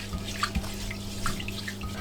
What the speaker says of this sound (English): We're going to wash it like this. Cold water,